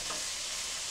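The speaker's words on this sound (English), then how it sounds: "I'm going to cook this with the onion for 1 minute." Minced garlic with onion frying in a pan for shepherd's pie, a short, even, close hiss of sizzling with no other sound.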